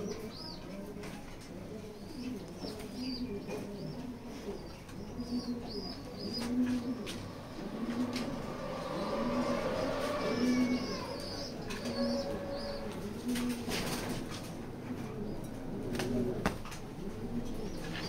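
Short-tailed racer pigeon hen in a loft giving repeated low rolling coos over about eighteen seconds, close and steady, with occasional soft wing flutters and faint chirps from other birds behind.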